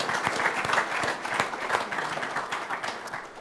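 Audience applause at a Pro Football Hall of Fame gathering, given in honor of Adam: a steady, fairly loud wash of many hands clapping for a few seconds, with scattered sharper claps standing out.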